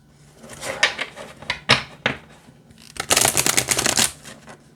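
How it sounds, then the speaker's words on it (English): An Odyssey Oracle deck of cards shuffled by hand, a few quick riffling bursts that build to a longer, dense flutter of card edges, close and fairly loud with no talking. "Let's see how it shuffles."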